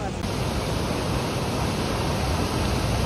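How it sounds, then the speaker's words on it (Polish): Waterfall in Huasteca Potosina, Mexico, heard from a boat beneath the falls: a loud, steady, broadband roar of pouring water that fills the whole clip without letup. "No i jesteśmy pod całym wodospadem."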